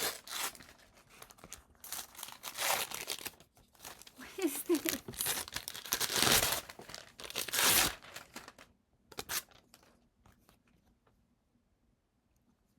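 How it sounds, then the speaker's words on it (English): Crinkly wrapping on a Christmas gift, apparently a book, is torn and crumpled open in close, loud bursts of rustling and ripping, with a voice speaking briefly before the sounds fade to quiet. "for those of you who hate the crinkly sound"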